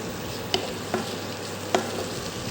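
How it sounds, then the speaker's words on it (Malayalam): Vegetable curry sizzles steadily in a pan while a spoon stirs it, with three sharp scrapes and clinks of the utensil against the pan over the constant frying hiss. "എല്ലാം കൂടെ ഇളക്കി കൊടുത്തതിന്"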